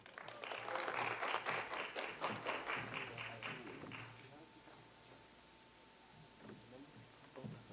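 Crowd applause at a rainbow rights campaign event honoring Diana Feliz Oliva, a dense wash of many hands clapping that swells at the start, then thins and fades out with a few scattered claps and faint voices.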